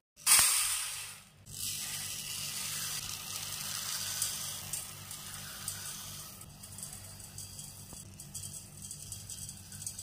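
Soaked chana dal, red rice and black kavuni rice being washed in water, with a sudden loud splash and pour at the start, then steady running and swishing water for several seconds, alone without talk.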